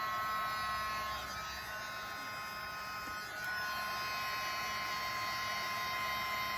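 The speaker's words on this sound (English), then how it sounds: "bring in my heat tool" A heat tool blows hot air to melt embossing powder on a papercraft project, giving a loud, steady whirring hiss that runs continuously from start to finish with no talking.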